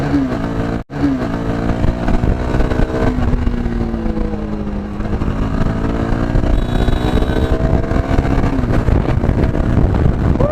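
A Yezdi Scrambler motorcycle on a test ride, engine close and loud with shifting pitch as it accelerates and changes gear, heavy wind rush over the microphone throughout.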